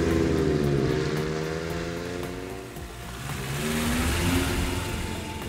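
Triumph Dolomite Sprint with a manual gearbox driving through hilly country, engine note rising and falling through gear changes over a steady wash of road and wind noise, close and continuous.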